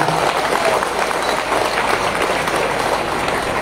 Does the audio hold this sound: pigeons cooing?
no